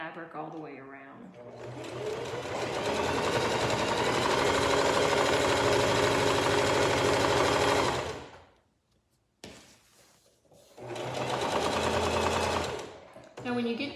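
A sewing machine stitching around the edge of a pillow case, running loudly and close in a steady burst of about six seconds, then a brief stop and a shorter second burst, with a voice talking around it.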